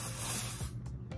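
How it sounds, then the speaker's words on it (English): Texturizing hair spray from an aerosol can is sprayed onto hair in a short, close, soft hiss lasting under a second, followed by a couple of brief faint puffs. "I take some of the Heritage by Mindy texturizing spray and just"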